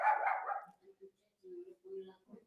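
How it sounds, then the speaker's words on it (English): Puppies barking indoors: a burst of yapping up front, then several short, faint yips and whimpery barks spaced out in quick succession, with no voices. "my puppies, they like to bark"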